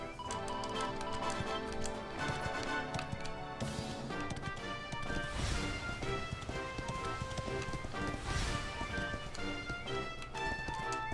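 Horse galloping in Dragon Quest XI, a rapid rhythmic clip-clop of hooves running steadily over game music, moderately loud throughout.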